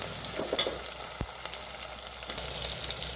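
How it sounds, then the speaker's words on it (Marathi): Onion and tomato sautéing in a little oil in a pan, a steady close hiss and crackle of frying with occasional soft stirring scrapes, no voices. "त्यामध्ये कांदा टॅमॅटो घालून घ्यायचं त्याला हलके ते परतवावी"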